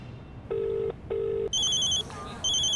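An electronic phone ring sounds in two steady tones, then a brighter higher-pitched warbling ring follows, loud and close against a low background hum.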